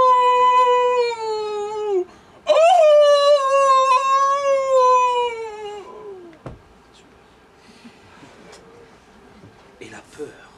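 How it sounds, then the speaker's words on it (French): A dog lets out a long, loud, mournful howl that slides downward, breaks briefly, then resumes and fades into quieter whimpering sounds near the end. "le chien hurla sans bouger."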